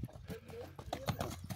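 A horse's hooves clip-clop in a quick uneven patter on a farm where an untamed horse is being broken and led by the mouth, close by, with faint voices in the background.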